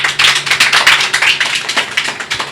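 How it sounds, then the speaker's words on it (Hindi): Church congregation clapping together in a rapid, steady run of sharp claps, loud and close, with no talk over it. "एक बार ताली बजा दो उनके लिए"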